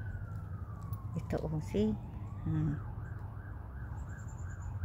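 An emergency-vehicle siren, police, ambulance or fire truck, wails outside in a steady rising and falling pattern, moderately distant, while a person talks close by over a low background hum.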